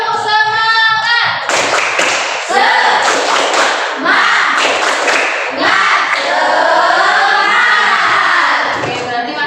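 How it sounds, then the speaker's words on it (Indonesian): A class of students performs a rhythmic spirit clap led by a teacher, with patterned hand claps mixed with excited children's shouts and chanting voices, loud and close. "Kita tes semangatnya dengan tepuk semangat ya."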